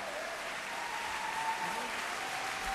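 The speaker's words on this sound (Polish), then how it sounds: "Brawa dla nich." Audience applause for a Bulgarian youth dance ensemble at a Zakopane folk festival, a steady, dense wash of clapping that holds evenly at moderate loudness with a faint tonal hum running through it.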